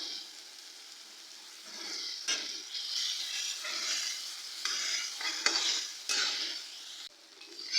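Grated tomato and ginger frying in a pan while a spatula stirs, a close, continuous sizzle broken by repeated scraping strokes and occasional light knocks.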